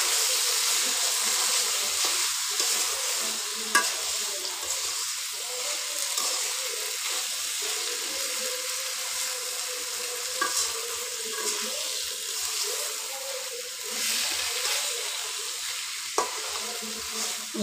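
Vegetables, including pumpkin and Malabar spinach, stir-fry in a pan for a mustard-paste dish. A continuous close hiss and sizzle runs throughout, broken by a few sharp spatula knocks and scrapes.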